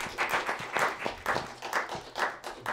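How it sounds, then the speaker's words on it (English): A small online show audience applauds in uneven bursts of clapping, moderately loud and close, rising and falling in short waves across the clip. "Can we get another round of applause for him?"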